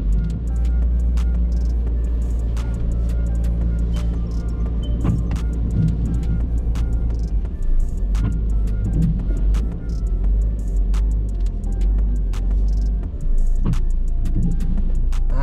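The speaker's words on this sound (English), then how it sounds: "start reversing slowly and just try and guide that car into that" A car engine rumbles steadily while the car reverses slowly into a 45-degree parking bay, heard from inside as a constant low drone with faint scattered clicks and no talk.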